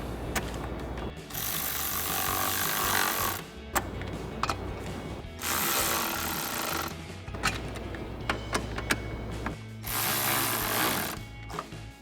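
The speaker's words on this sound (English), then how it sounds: "you can take a 7mm socket to tighten down your clamps" A 7mm socket ratchets down the intake clamps on a 2015-2020 Ford F-150 during a cold air intake install, giving three long bursts of rapid clicking separated by brief pauses and scattered ticks, loud and close.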